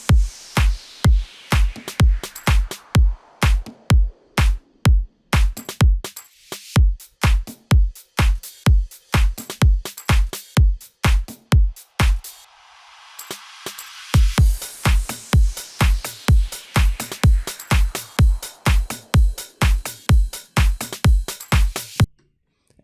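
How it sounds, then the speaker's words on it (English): Future house arpeggiated synth pumping under a sidechain, layered with effects and a punchy four-on-the-floor kick pattern; steady driving beats with two short breaks, one filled by a brief riser-like wash before the groove returns. "Add some effects and drums like this."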